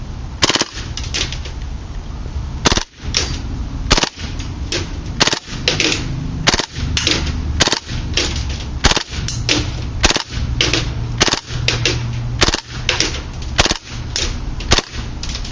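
A propane-powered KWA MP7 airsoft gun fires on full auto in repeated sharp bursts, loud and close, with short pauses between strings of rapid cracks and no talking.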